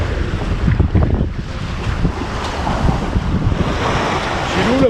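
A sailboat under way off Saint Lucia in the Antilles, with steady wind rushing past the microphone and waves washing against the hull, continuous and fairly loud throughout.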